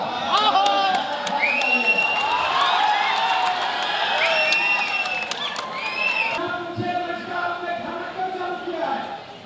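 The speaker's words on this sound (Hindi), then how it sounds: "हजारों की तादाद में अनंत सिंह के समर्थक गर्मजोशी के साथ स्वागत किया" A large crowd of political supporters cheers and shouts at an NDA workers' rally in Mokama, Bihar, welcoming a politician. Many voices and whoops blend into a loud, steady roar that fills the whole stretch.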